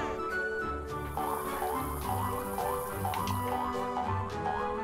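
Water sprays and drips onto plants in the Yooka-Laylee video game, a steady wet patter that runs under a bed of game music.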